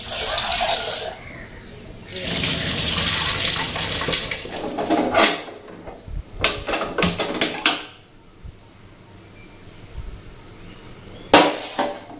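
Tap water runs over split peas (matar dal) being rinsed in a kitchen, in two long broadband gushes separated by quieter handling clatter and a few sharp knocks, fairly close and loud.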